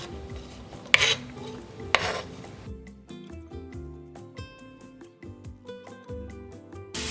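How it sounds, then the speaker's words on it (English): Chopped mushroom stems go into a hot skillet with olive oil, giving two sharp utensil-and-pan clatters and some stirring, followed by background music. "Now we will add in the stems, the chopped stems of our mushrooms."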